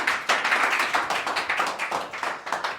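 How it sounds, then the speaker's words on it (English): A small group-discussion audience claps for a speaker, a crisp, close run of individual hand claps in a quick, slightly uneven rhythm, with only a few people taking part. "Please clap for him"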